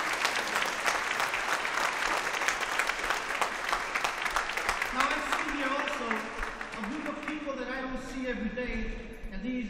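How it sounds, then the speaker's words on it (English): Applause from the audience at a high school graduation ceremony, dense and sustained for several seconds before fading as a speaker's voice takes over. "Please give yourself a round of applause for this"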